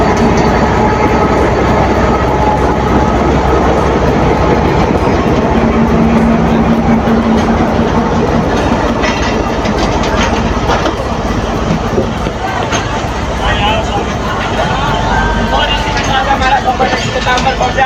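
A train rumbles steadily through Ruk railway station, a continuous loud roll with faint rhythmic clatter, while people talk over it.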